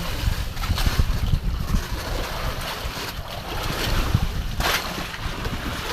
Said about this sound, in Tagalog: lumalaki na yung alon.